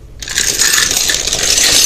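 A heavy 20-pound metal chain with a lock is set down, giving a loud, close metallic clatter and jangle that lasts about two seconds with no voices.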